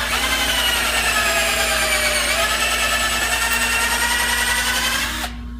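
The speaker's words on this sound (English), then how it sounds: "Drill towards the center of the board, which gives me a lot more options for cutting." A power drill bores into a wooden board, whirring at a steady high pitch, shifting slightly partway through, then cuts off abruptly near the end.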